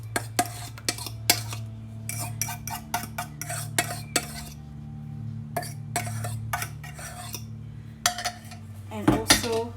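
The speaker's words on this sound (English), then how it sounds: "we're just going to be using a regular hand whisk and also a bowl for this" A hand whisk mixes banana and butter in a bowl, giving a steady run of close, irregular metallic clinks and scrapes against the bowl over a low background hum.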